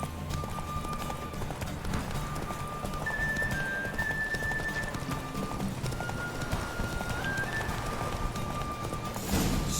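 A horse in Witcher 3 gallops with steady, close clip-clop hoofbeats throughout. Faint tonal game sounds play underneath, and a louder burst comes at the very end.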